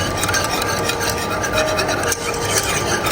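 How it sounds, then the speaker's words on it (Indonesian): Continuous scraping and rubbing of a spoon stirring melted chocolate and granulated sugar in a nonstick pan, a steady close rasping texture with no voices. "Kemudian aduk lagi sampai gulanya ini tidak bergerindil"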